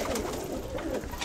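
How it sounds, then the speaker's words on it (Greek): Domestic pigeons coo softly in low, throaty, rolling murmurs that overlap. The sound is faint and comes from fairly close by, with no talking. "Αυτά εδώ είναι τα περιστέρια μας"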